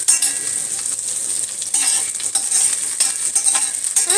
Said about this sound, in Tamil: கத்திரிக்காய் எவ்வளோக்கு எவ்வளோ அந்த எண்ணெயில் வதங்குதோ அப்போ தான் அந்த டேஸ்ட் கிடைக்கும்